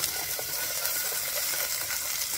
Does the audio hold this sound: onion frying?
yes